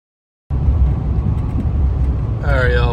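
A Chevrolet Silverado pickup on new wheels and tires cruises at 65 mph, a steady low road and tire rumble from inside the cab that starts abruptly after a brief silence, with a voice joining near the end.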